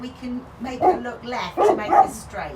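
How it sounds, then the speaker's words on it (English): Dog barking and yipping at a horse riding lesson, the barks popping up several times in the background beneath an instructor's steady talking. "Apologies for the dog, I don't know what it's doing."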